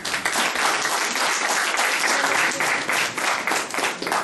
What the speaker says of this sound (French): je vous demande de l'applaudir également